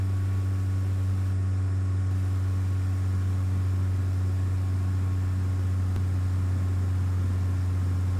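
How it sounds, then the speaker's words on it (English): A Cessna 172 in Microsoft FSX gathers speed down the runway, a steady, loud simulated engine drone with a strong low hum that holds even and unbroken throughout. "Accelerating down the runway to 55 knots."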